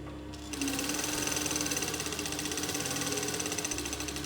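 A sewing machine runs steadily, stitching to the end of a skirt seam with a fast even whirring rattle that starts after a brief pause and continues without a break, loud and close, with no talking.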